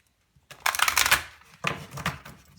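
Two quick bursts of cards being riffled and shuffled, crisp and close, with a brief pause between them.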